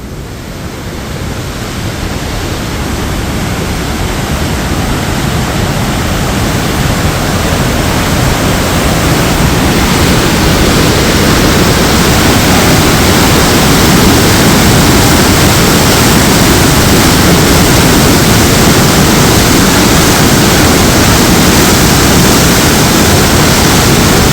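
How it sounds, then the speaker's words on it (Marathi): Water released from Ujani dam rushes into the left canal in a loud, steady roar of broadband turbulence that builds over the first seconds and then holds constant, with no voices. "हे पाणी एवढ्या मोठ्या प्रचंड वेगानं पुढं सरकत आहे"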